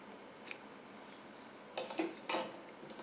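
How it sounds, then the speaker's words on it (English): Scissors cut through yarn during crochet work on a baby blanket, giving two or three quick, faint snips close by near the end, after a mostly quiet stretch. "Then you can take and cut your previous colored yarn."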